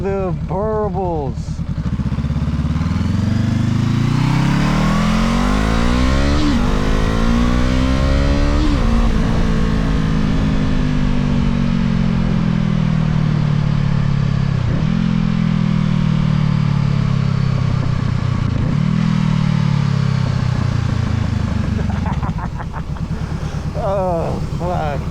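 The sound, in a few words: Honda CB500F motorcycle with Coffman exhaust burbling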